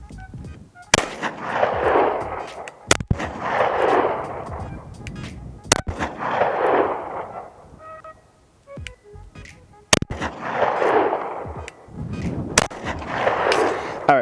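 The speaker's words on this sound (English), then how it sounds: "So let's throw some rounds downrange and get this thing zeroed a little bit." Five loud rifle shots are fired downrange one at a time while the sights are zeroed, each a sharp crack with a reverberating tail, spaced a few seconds apart outdoors.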